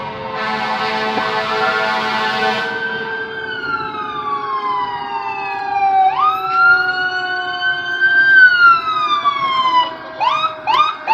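A loud ambulance siren wails nearby, sliding up and down, then switching to rapid yelping bursts near the end, with traffic rumble underneath, in Destin, Florida.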